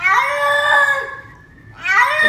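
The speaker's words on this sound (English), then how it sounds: "The cat noise is what's getting me." Cat meowing, two drawn-out wailing meows, the first long and loud, the second rising after a brief pause, close and clear with no talk.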